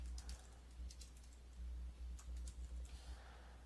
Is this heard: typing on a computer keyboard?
yes